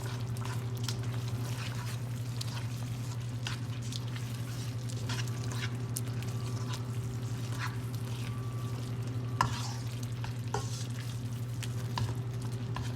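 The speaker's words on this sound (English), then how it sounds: "And stir in the cheese to thicken the sauce and to season it." Cheese being stirred into a simmering amatriciana sauce for spaghetti, a soft continuous bubbling and gentle wet stirring under a steady low hum, with a few faint clicks of the spoon against the pan.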